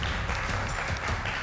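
Audience applause on a television game show fills the space with steady, dense clapping from start to finish, loud and unbroken, with no voices rising above it.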